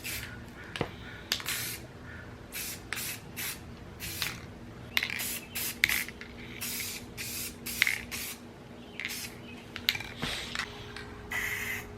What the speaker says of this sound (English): we're gonna throw our tack coats on these, and let's get the painting party started